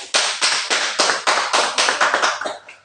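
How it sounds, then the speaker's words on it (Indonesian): A classroom applauds group A with rhythmic clapping, about a dozen crisp, even claps in quick succession that loosen near the end, close and clear with no talk over them. "Tepuk tangan untuk kelompok A"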